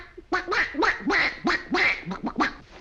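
A voice imitates a duck, giving a rapid series of about eight nasal quacks, loud and close, with no other talk around them.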